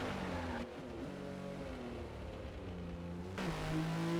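A race car in a Forza game driving into the pit lane, its engine a low, fairly quiet hum whose pitch drops and shifts as it slows.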